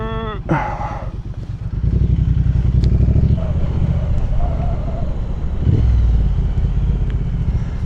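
Triumph Bonneville motorcycle being ridden, its engine a loud, steady low rumble that swells as it pulls away after a short pause, with faint clatter and rising revs, no talking.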